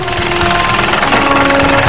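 A miner's rock drill runs continuously at the Tumpang Pitu gold mine, a loud, steady, rapid hammering rattle heard up close with no pauses.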